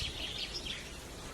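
A caged Chinese hwamei thrush gives a few soft, high chirping calls over a steady background hiss, fairly faint and close.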